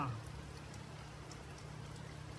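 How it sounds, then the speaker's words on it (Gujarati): Steady rain hisses throughout with a low constant rumble underneath, broadband and even, with no pauses. "તમે વિચાર કરો એવો વરસાદ પડે છે"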